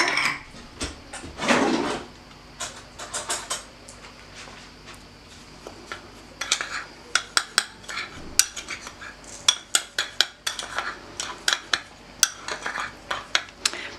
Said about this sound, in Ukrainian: з'єдную крахмаль з цукром, гарно перемішую